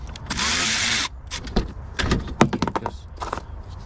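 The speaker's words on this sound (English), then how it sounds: "you want to remove the 10 millimeter bolts that secure the filter in place" A power tool whirs loudly for about a second while removing 10 mm bolts from the diesel fuel filter bracket of a BMW F15 X5 35d, followed by rattling clicks and clunks of metal parts being handled.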